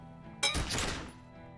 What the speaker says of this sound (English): A small explosion expels the bullet from the chamber.